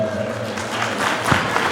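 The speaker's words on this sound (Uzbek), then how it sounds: "keling yoshlarning kelajagi uchun bitta guldiroz qarsak chalib qo'yamiz azizlar" Wedding guests applaud the newlyweds, a broad rush of clapping from the crowd rising over a fading musical tone and low murmur, growing slightly louder toward the end.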